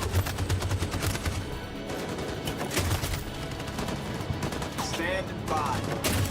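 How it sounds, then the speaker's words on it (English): Sustained machine gun fire in Detroit: Become Human, rapid bursts of shots rattling on and off for several seconds, loud and close, with voices speaking briefly over the gunfire. "That machine gun has taken down everything that moved!"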